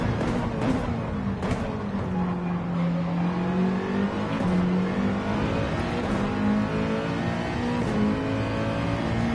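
Race car engine in a racing video game on the Fuji circuit, a loud continuous drone with the pitch climbing and falling through gear changes, close and steady with no talk.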